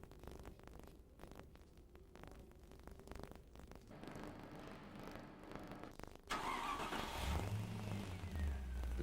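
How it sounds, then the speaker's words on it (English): A 1993 MG RV8 V8 engine runs at a low idle with steady, faint rumble, then cranks and catches into a louder, rougher running note near the end. "replace the cap and run the engine for a short while."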